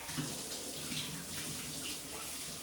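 Water runs steadily from a tap while hands are washed after handling raw salmon, a continuous close splashing hiss with slight variations as the hands move through the stream.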